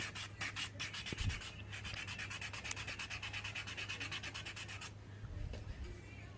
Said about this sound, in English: And then you clean the top with the sanding paper.